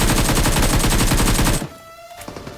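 Automatic gunfire in the mobile battle royale game BGMI: a loud, rapid burst of shots lasting about a second and a half, then a sudden cutoff into quieter game ambience.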